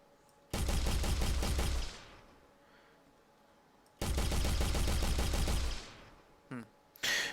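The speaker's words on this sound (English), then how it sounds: "Here's a nail gun" Quake nail gun firing in two sustained rapid bursts of about 1.5 seconds each, the second longer, with quiet gaps between and a couple of short sounds near the end.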